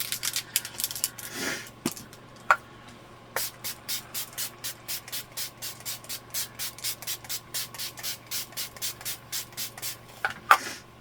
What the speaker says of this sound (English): I'm gonna finish off with the Makeup Revolution Fix and Glow setting spray to get a little glow